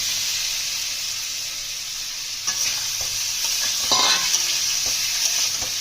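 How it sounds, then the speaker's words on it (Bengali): Bitter gourd being fried in ghee with potato, tomato, chilli powder and spices in a pan: a constant sizzle with repeated scraping stirs of a spatula, growing busier midway, no voices. "ভালোভাবে মশলার সঙ্গে কষিয়ে নেব আমরা"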